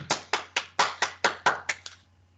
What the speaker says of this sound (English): Can we clap it up again?